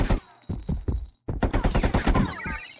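An SMG in an Unreal Engine 5 mini game fires short, punchy bursts. A few separate shots come first, then a quick rattling string, close and loud.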